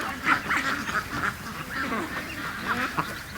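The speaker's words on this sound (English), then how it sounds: "She's actually a really cute little duck." A small duck quacks repeatedly in a quick, uneven series of nasal calls, fairly close, with faint flock and outdoor background noise and no talk.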